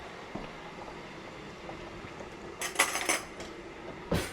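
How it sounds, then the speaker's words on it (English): Small metal spoon pulled from a kitchen cutlery drawer while making spinach lasagna, a brief clatter of clinking silverware followed by a single later clink, fairly close against quiet room tone. "Let me get a small spoon."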